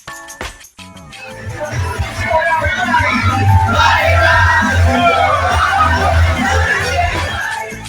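Young crowd at the Clubhouse nightclub in BGC, Manila: a few low thumps give way to loud, sustained yelling and whooping over booming bass music, with chatter mixed in.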